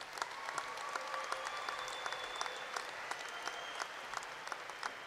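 Graduates at Angelo State University's 2018 spring commencement receive a round of applause from a large hall, a soft, distant rain of clapping with scattered crisp, nearer claps standing out.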